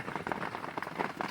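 Steady rain falls outside on a humid day, a dense, even patter of drops hitting surfaces at close to moderate distance, continuous with no voices.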